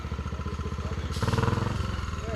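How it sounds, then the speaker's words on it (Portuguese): A heavy Tornado motorcycle rides past with a throbbing, pulsing engine note that swells in the middle and eases off, fairly close and alone. "Moto muito pesada."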